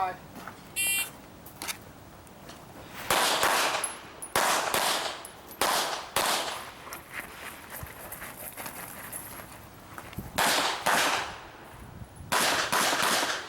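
A shooter fires a pistol at an outdoor IDPA match, a string of loud, sharp shots in bursts with pauses between them, along with a high timer beep and voices nearby.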